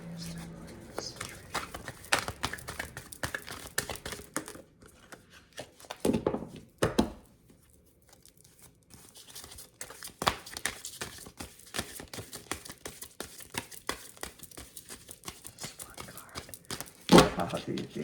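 Large oracle cards being shuffled in bursts of crisp rustling and slapping, with short pauses between the flurries and a sharp snap near the end.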